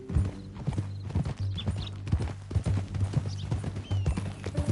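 Horse hooves clip-clopping steadily on a ranch road in Red Dead Redemption II, a close, continuous trotting rhythm with occasional snorts over a low ambient drone.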